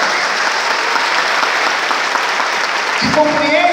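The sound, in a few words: congregation applauding in church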